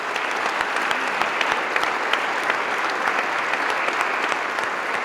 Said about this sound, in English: How about one more round of applause for this team?